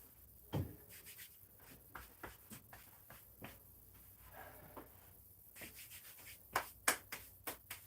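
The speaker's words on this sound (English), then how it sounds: "When in doubt, rub chalk on it." Chalk, magnesium carbonate, rubbed between the hands during a heavy block and front squat workout, giving soft scattered rubs and sharp claps and pats, faint and close, with no talking.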